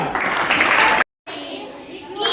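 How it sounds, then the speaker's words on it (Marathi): Children at a winter devotional camp clap together in a burst of applause mixed with young voices, then a brief silence, then more chatter and clapping resuming at a moderate distance. "टाळ्या"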